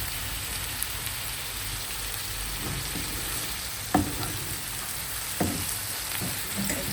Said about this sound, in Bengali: এখন আমি ওই মাছ ভাজার তেলের মধ্যেই আবার পেঁয়াজ ভাজি করে নিয়েছি তার সাথে টমেটো দিয়েছি কাঁচামরিচ দিয়েছি